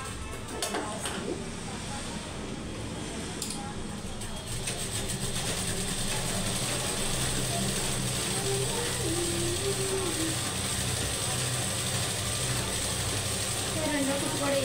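A sewing machine stitches a second seam along fabric, running as a steady, continuous mechanical whir with ratcheting clicks throughout, fairly close, while faint talk comes and goes in the background.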